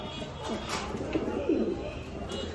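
A young Red Lahori fancy pigeon coos in soft, low, rolling bursts against a faint background hiss, with a few separate calls across the short stretch.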